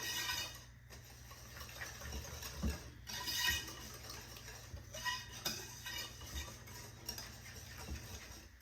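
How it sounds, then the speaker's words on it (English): Coconut pie batter being whisked by hand in a bowl, soft rhythmic clinking and swishing of the whisk against the bowl, faint and close, with no talk. "let's whisk this together really good"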